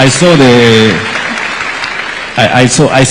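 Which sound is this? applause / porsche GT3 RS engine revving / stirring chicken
applause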